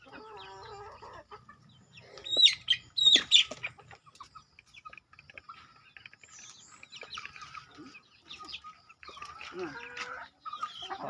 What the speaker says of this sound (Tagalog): Ito yung mga alagang manok natin.